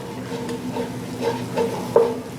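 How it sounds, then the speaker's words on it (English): Spices and tomato paste simmer in a pan, giving a steady low bubbling sizzle with a few soft clicks of stirring, moderately close and with no voices. "we're going to simmer this with this tomato paste"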